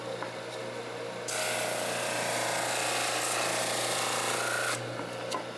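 A Flatmaster drum sander with 100 grit sandpaper runs under a steady low hum, then bites into wood with a loud, bright abrasive roar for about three and a half seconds before dropping back to the idle hum.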